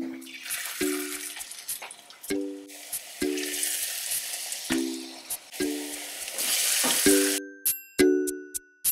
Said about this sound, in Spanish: las echamos en abundante aceite caliente para freírlas